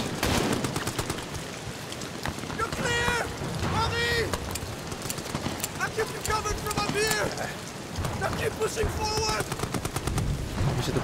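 Gunfire in the video game Amnesia The Bunker: dense, rattling bursts of shots run almost continuously, with a voice speaking over the shooting at intervals.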